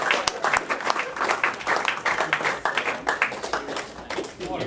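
Audience at a university cricket club prize night applauding the third grade side's Best Batsman award winner, a dense, steady wash of many hands clapping close by, sustained without pause for several seconds.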